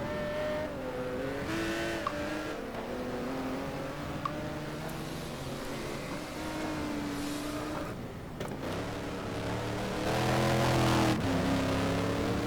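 A GT1 race car in a racing video game at Valencia loses control, its engine note wavering and shifting pitch as it revs, with a steady close engine drone throughout and a louder surge near the end. There is no talking.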